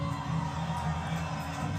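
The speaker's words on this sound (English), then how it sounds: "There's the crowd cheering." A boxing crowd cheers and roars steadily in an arena, a dense continuous wash of many voices at moderate level.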